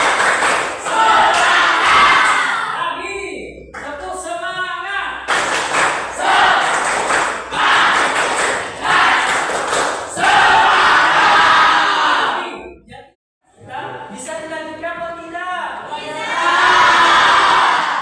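Students performing the 'tepuk semangat' clapping chant as an ice breaker, loud rhythmic clap bursts mixed with shouted chant voices, repeated several times with a brief pause near the end.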